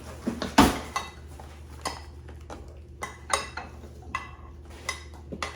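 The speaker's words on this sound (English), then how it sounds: "I'm gonna use just a spoon to level it out" A spoon scrapes and taps in a dish while spreading and levelling a cream layer on tiramisu, giving a series of sharp clinks and light scrapes at a close distance, one louder knock near the start.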